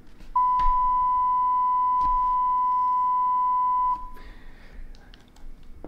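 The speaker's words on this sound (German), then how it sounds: "Dies mache ich mit einem normalen Sinussignal in der Höhe von 1000 Hertz, welches ich über mein Handy abspiele." A steady 1000 Hz sine tone plays from a phone. It is a single clean, pure beep lasting about three and a half seconds against a quiet room, followed by faint handling noises.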